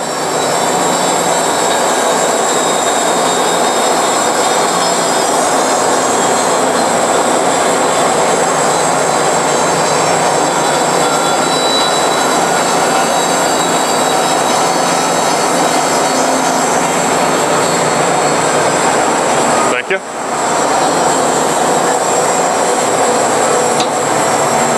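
Bandsaw blade cutting through an aluminum forging, a loud, steady broadband machine roar holding constant throughout, with one brief dip near the end and no talking.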